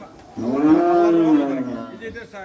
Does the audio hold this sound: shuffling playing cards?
no